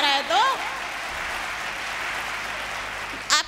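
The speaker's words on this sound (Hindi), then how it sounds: "अरे तालियां उठाओ जरा" An audience at a Hindi comedy show applauds in a steady, moderately loud wash of clapping, with a short burst of a voice over it at the start and again at the end.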